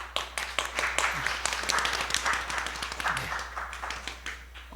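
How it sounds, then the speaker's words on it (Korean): A church congregation claps to welcome a visitor during Sunday worship, many hands applauding in a lively, fairly loud round over a low steady hum. "자리에 일어나시면 우리 박수로 환영하시면 좋겠습니다"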